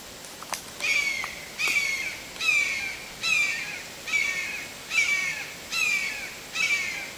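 A red-tailed hawk calls again and again near its nest, a series of about seven evenly spaced harsh, descending screams, clear and moderately loud with no talk.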